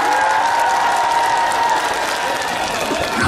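An outdoor crowd at a temple music concert applauds loudly and continuously, a thick even wash of clapping with faint cheers that stays steady to the end.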